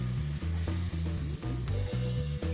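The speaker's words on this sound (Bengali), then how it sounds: "সামান্য পরিমাণ জল অ্যাড করে মশলাটাকে ভালোভাবে কষিয়ে নেব।" Spice masala with tomato and a splash of water sizzles steadily in a pan while being stirred, a constant close frying hiss broken by regular scraping strokes.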